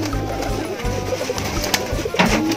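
Bengali pigeons in a pigeon loft on a farm, cooing in low, repeated throaty rolls that rise and fall throughout, close and fairly loud, with occasional flutter and shuffling noises in between.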